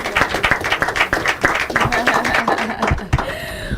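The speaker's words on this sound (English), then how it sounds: "another warm round of applause" Audience clapping at a 2025 inter-collegiate quiz and debate competition, with close, loud, rhythmic hand claps and voices calling out among them.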